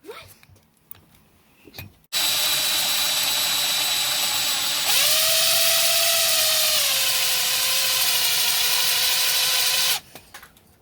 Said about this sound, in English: Load a 1/2 inch drill bit and drill, use the pilot hole to drill a bigger hole.